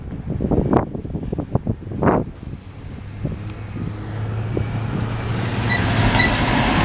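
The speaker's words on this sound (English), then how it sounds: "I wonder why this train was going slow" A Norfolk Southern mixed freight train rolls slowly past in Fostoria, Ohio, its low rumble and rail noise continuous against wind buffeting the microphone, with a few sharper clanks early on.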